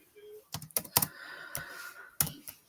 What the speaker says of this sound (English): Let me type this one up now.